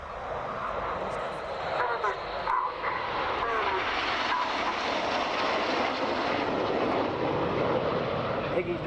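Red Arrows Hawk jets flying in formation at an air tattoo, a steady broad jet roar held at a distant, even level throughout, with a voice talking over it.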